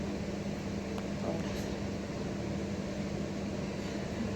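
An outdoor air conditioner runs with a steady, even whir and hum that holds at a constant level throughout, with no voices over it.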